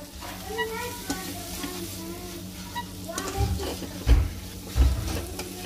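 Masala of turmeric, coriander powder and chili is roasted in a pan for dal tadka, with steady sizzling and scraping as a spoon stirs it, plus a few heavier knocks of the spoon against the pan near the end.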